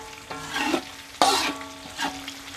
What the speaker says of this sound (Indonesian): Kita goreng sampai benar-benar kulitnya berubah